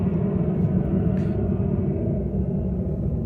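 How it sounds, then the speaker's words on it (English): Airplanes drone overhead near a workplace, a steady low rumble filling the background, continuous and fairly loud, with no one talking. "You can probably hear the planes right now."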